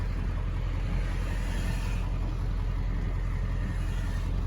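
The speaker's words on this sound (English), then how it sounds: "And we got tons of traffic coming." Steady road traffic rumbles past continuously at moderate distance, a dense broadband wash of passing vehicles with no talk.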